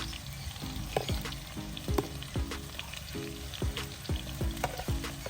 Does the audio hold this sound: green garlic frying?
yes